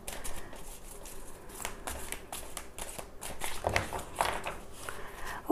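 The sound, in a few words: shuffling tarot cards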